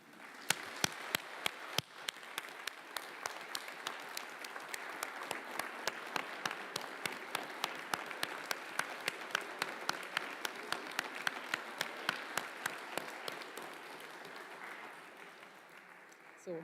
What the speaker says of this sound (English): you may now clap and/or raise your cup and toss it in the air.